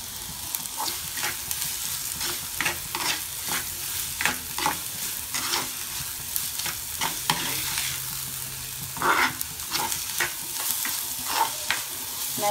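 Onions salted and fried over medium-high heat for a drumstick poricha kuzhambu hiss steadily in a pan, broken by repeated spatula scrapes and stirs in an irregular rhythm, close and without talk.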